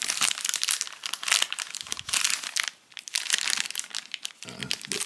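Plastic and paper packaging of a small S.H. Figuarts Cyclops action figure box crinkles and crackles up close in rapid, continuous bursts, with a brief quiet pause near the middle and no speech.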